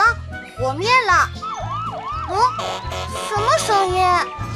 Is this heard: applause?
no